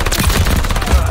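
Rapid bursts of explosive-round gunfire in a first-person shooter game, a dense, continuous barrage of loud pops and booms filling the whole moment with no gaps.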